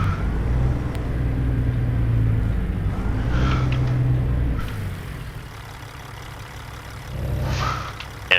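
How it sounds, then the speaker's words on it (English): A heavy truck's engine brake in American Truck Simulator, a deep rumbling low drone that pulses and fades, with the engine note shifting as the truck slows; no speech over it. "Jake brake."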